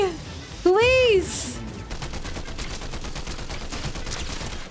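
Gunfire in the video game Fortnite: rapid bursts of shots crackle after a rising whistling sound, continuing as a dense fusillade with a voice reacting over it.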